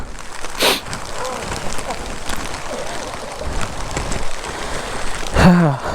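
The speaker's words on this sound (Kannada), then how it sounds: "ಫುಲ್ಲು ಮಳೆ." Heavy rain falls during a motorbike off-road ride on the way to the Rani Jhari viewpoint, a steady hiss with bursts of louder noise and brief vocal sounds.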